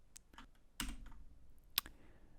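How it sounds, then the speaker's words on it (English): Computer keys are pressed to set a keyboard shortcut on Windows 11, giving a few sharp, separate clicks spaced irregularly, close up, with no talking. "Go to Shortcut Key, and press the keys you want the shortcut to be."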